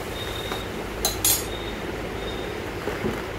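A few light metallic clinks from a utensil against a pan while soaked chilli, cumin and turmeric spice mix is stirred into fish curry, brief and faint over a quiet background.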